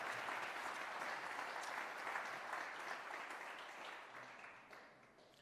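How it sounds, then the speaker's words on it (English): An audience applauds at the 2021 Sasol New Signatures art awards ceremony, a dense, steady ovation that gradually fades over about five seconds. "please give him again the round of applause he deserves"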